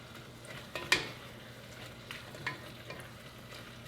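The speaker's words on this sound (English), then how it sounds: "stirring it up" Paprika, minced garlic and meat stirred in a pot over medium heat, giving a soft, steady sizzle with a few sharp scraping stirs near the start and lighter clinks later.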